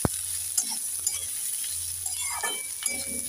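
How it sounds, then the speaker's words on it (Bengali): Marinated soybean chunks and potatoes hiss steadily in a hot pan, with a spoon clinking and scraping now and then as the pieces are turned. "এবার দিয়ে দেব মেখে রাখা সোয়াবিন আর আলু। একটু নেড়ে চেড়ে দিয়ে দেব।"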